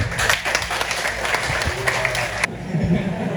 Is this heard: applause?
yes